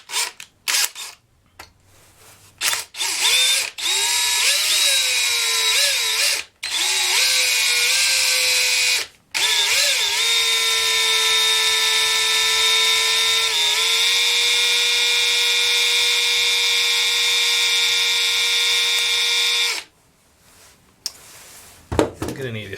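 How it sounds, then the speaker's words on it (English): A power drill whines steadily during repair work on a Lenovo W520 laptop, loud and close, running in long sustained bursts with brief stops and pitch dips as it bites, followed by a few clicks. "I'm gonna need to fix that drill."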